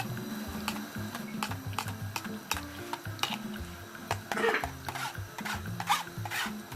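Palm nut pulp being pressed through a strainer with a ladle while making palm nut and peanut butter soup, close wet scraping and squelching strokes in a repeating rhythm over a soft kitchen background.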